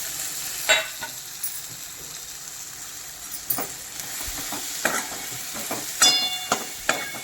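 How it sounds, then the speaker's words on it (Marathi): Mixed vegetables sprinkled with turmeric hit a hot pan, hissing and sizzling steadily while a spoon scrapes and clinks against the pan in scattered knocks. "आणि ही मिक्स भाजी टाकून घेते"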